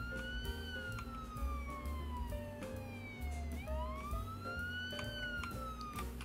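A wailing emergency siren sweeps steadily up and down in pitch over a low rumbling engine in the police driving game Police Simulator: Patrol Officers, with an ambulance drawing slowly nearer and holding loud throughout.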